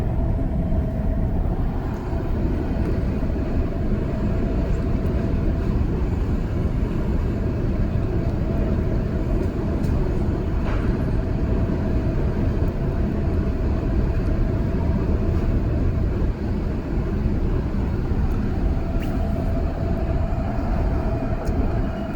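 REM light-rail train passing in the opposite direction on a night ride between Brossard stations, a loud continuous low rumble and roar from onboard that holds steady throughout, with no talking.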